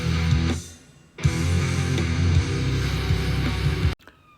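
Heavy distorted chorus guitars through a Neural DSP Archetype Gojira amp plugin, a dense, loud wall of sound with a brief dip early on and an abrupt cut near the end.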